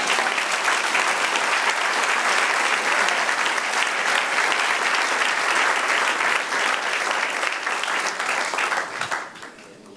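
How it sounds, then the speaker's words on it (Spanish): A church congregation applauding, dense sustained clapping that holds steady for several seconds before fading out at the end. "Dale un aplauso al Señor."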